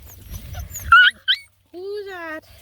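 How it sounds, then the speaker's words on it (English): A beagle puppy cries with a few short high yelps followed by a longer wavering whine, close and clear in a quiet room. "Oh, we got a puppy down. Puppy down. He's crying because he's down."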